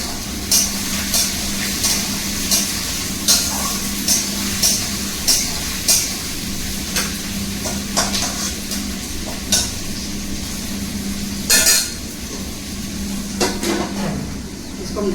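Potatoes frying with onions in a pan for a home-style chicken dish, a steady sizzle with repeated scrapes and clinks of a spoon stirring against the pan at fairly regular intervals, close by, no talking.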